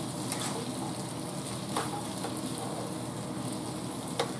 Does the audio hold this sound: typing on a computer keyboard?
no